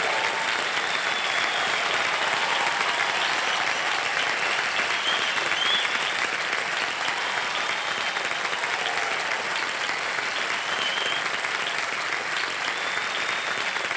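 Steady, sustained applause from a studio audience at a television quiz show, a dense, even wash of clapping that stays loud throughout with no pauses.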